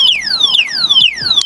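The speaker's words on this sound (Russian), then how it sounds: "сейчас сработала сигнализация, видите?" A White Siberia Mini R 2.0 1200W electric scooter's anti-theft alarm blares loud, close, repeating descending electronic sweeps about every half second.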